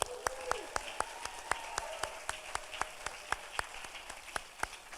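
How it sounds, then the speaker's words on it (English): Audience applause for graduates at a recognition ceremony: a steady rhythmic clapping with regular sharp hits, fairly close and moderate in level, over a soft room background. "can we give a round of applause to our program completers and graduates?"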